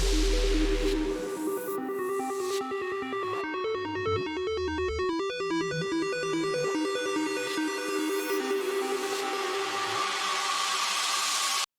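An electronic music intro layers a reversed impact swell and a bassy white-noise impact under a steady, pulsing synth pattern, loud and continuous, with a noisy hiss rising and falling throughout.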